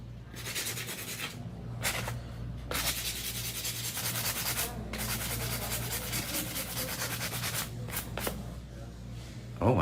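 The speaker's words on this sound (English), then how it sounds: "I just gotta buff it nicely and get it nice and smooth" A long coffin-shaped acrylic nail is buffed smooth with quick, close, rasping back-and-forth strokes that come in bursts separated by brief pauses, over a low steady hum.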